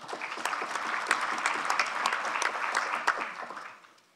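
Audience applause welcoming a speaker onto the stage at an agricultural congress, a steady dense clapping from many hands that holds for about three and a half seconds and then fades out.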